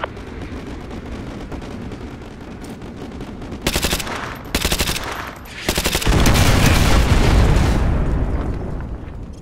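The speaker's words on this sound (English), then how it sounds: "Artillery inbound. Coordinates confirmed. Firing." Call of Duty artillery strike and gunfire: rapid bursts of automatic fire crackle in quick volleys, then heavy rumbling explosions roll in and swell loudly before fading, with no talk.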